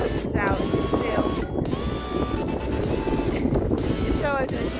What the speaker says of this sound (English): It's so open, as you can probably hear, it's really windy